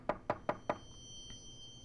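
Knocking on a door in the video game Midnight Postman: four evenly spaced, crisp raps in quick succession, close and clear against a quiet background.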